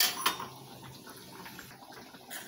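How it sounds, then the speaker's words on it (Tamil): Buttermilk poured into a mixer jar for moor kulambu, a soft liquid splash and trickle with a clink against the jar at the start, fairly quiet and close. "இப்போ மோரை மிக்சி ஜாரில் ஊற்றிக்கிறேன்"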